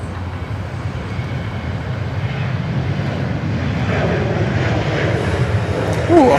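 A jet airliner takes off from runway 16 right at Sydney Airport, its engines rising into a broad, swelling roar at a distance that grows gradually louder over several seconds.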